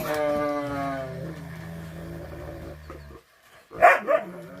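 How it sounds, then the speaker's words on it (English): Several dogs, one named Dexter, bark and growl while tangled up together, a long drawn-out howling whine followed after a short pause by a couple of loud, sharp barks close by. "The dogs are all tangled up."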